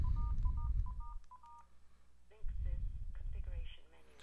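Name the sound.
telephone keypad DTMF dialing tones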